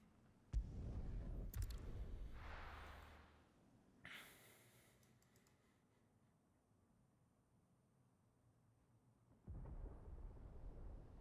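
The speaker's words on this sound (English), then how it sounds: "Sounds like thunder." Thunder rumbling in the video game Final Fantasy 16: a loud low roll breaks in early and swells for a few seconds, a sharper crack follows, then quiet before another deep rumble returns near the end.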